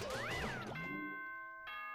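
A chime sounds in Danganronpa 2: Goodbye Despair, a bright multi-note ding-dong jingle with sustained ringing tones that hold and fade, followed by a brief second note near the end, clear and alone.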